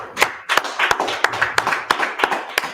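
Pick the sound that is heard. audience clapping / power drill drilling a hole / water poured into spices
audience clapping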